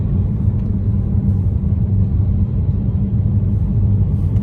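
Inside a car driving home along the road, a steady low engine and road rumble holds at an even, moderately loud level throughout with no voices.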